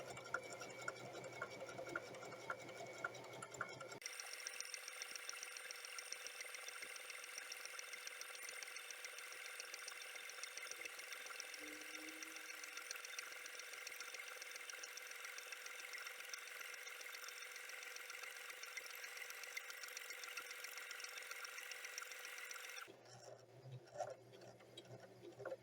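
A domestic sewing machine runs continuously for about twenty seconds with a steady mechanical whir and fine ticking, stitching fabric at an even speed with no pauses, close and fairly loud, then stops.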